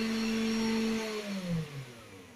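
A Chinese 500W CNC spindle whines with a steady motor tone that then drops in pitch as it spins down, close and fairly loud, alone without voices.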